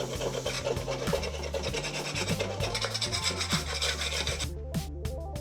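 A spoon scrapes across a pan coated with butter and browned fond, rasping and rubbing steadily and fairly close, with no talking.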